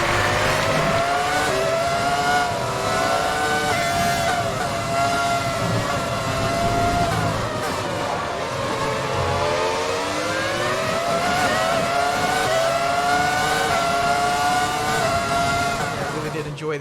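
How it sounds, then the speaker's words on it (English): A Schumacher F2000 race car from F1 2020 screams through its gears, its engine revving and shifting in rising sweeps, loud and constant, with a commentator speaking over it. "oh, this car sounds absolutely delightful"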